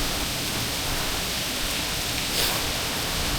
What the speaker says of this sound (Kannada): ಎಂಥ ಜೋರು ಮಳೆ ಅಂದರೆ